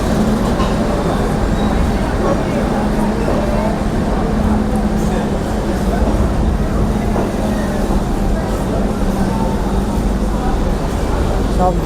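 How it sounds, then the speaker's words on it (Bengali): Anga Express train 12254 pulls into Asansol station in India with a continuous low rolling rumble and a steady engine drone, loud and sustained throughout, while voices talk faintly underneath. "এখন প্রবেশ করলো আমাদের ট্রেন 12254 আংগা এক্সপ্রেস।"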